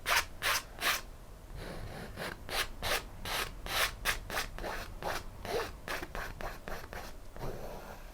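Palette knife scraping wet paint down across a canvas in a mountain landscape painting, a series of rhythmic close rasping strokes, about a dozen in quick succession, with no talking.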